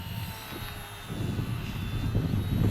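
A ParkZone Ultra Micro T-28 Trojan RC plane flies overhead, a thin, steady electric motor whine that grows slightly louder over a constant outdoor background rumble.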